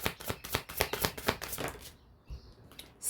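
A tarot deck is shuffled with a rapid series of crisp card riffles, then the shuffling stops and a single card is drawn with a soft slap, close and moderately quiet.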